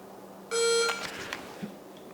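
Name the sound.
electronic beep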